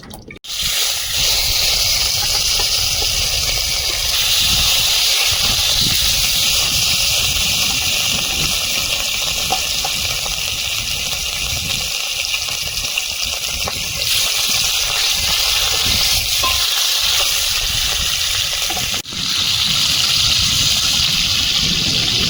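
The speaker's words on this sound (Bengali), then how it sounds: "মাছগুলো ভেজে নেব" Thick round pieces of rohu fish, rubbed with salt and turmeric, frying in hot oil: a loud, continuous hissing spatter that holds steady for over twenty seconds, close by and without talk.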